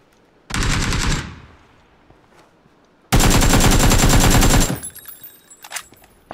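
Automatic gunfire in the PUBG video game: two loud, close bursts of rapid shots, a short one and then a longer sustained one, separated by a quiet gap.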